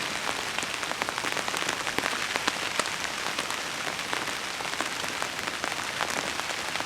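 Rain falls steadily on the open sea during island camping, a dense, close patter of drops striking a surface with constant hiss and scattered louder taps. No one talks.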